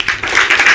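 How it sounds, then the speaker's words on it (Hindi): An audience bursts into brief applause at a talk event in India, with many hands clapping in a dense, lively patter over less than a second. "मौसमी जी के लिए प्लीज ताली हो जाए"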